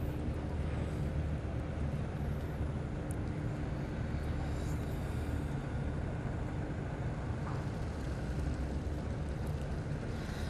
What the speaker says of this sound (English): The wind is really strong here.